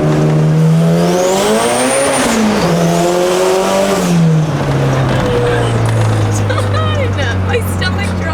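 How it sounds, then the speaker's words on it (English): A turbocharged Honda VTEC car with the wastegate closed revs hard up and down, giving a loud close-up engine roar with a rising turbo whistle and spool noises. Shifting pitches sweep through the sound, and a voice is heard over it. "the turbo noises are so much louder now"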